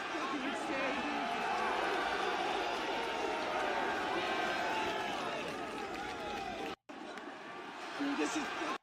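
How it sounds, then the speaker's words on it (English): Large lively crowd at a packed event, a continuous dense roar of voices, footsteps and movement, with a brief cut to near-silence and then the loud crowd noise returning. "Look at that energy. Look at that crowd."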